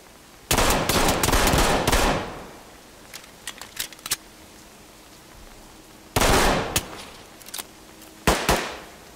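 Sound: pistol gunfire in Ready or Not video game

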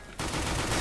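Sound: Tec-9 pistol gunfire in the video game CS:GO

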